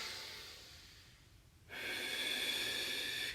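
A person exhales, then draws one deep, audible breath in through the nose during a shoulders, hips and knees workout stretch, a close airy rush that swells and holds, with no speech.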